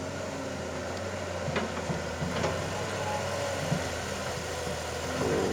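The Mitsubishi diesel engine of a Kobelco SK200 Mark 5 excavator idles with a low, even drone, occasional faint clanks over the top, no voices.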